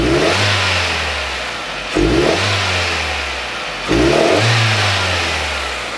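A car engine revs up sharply three times as the throttle is blipped, each burst rising and then easing back toward idle, heard close and alone.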